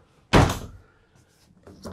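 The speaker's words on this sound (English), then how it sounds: "This door goes across." A single solid thunk as a sliding door closes on a Seawind 1260, followed by faint rattling and a small knock.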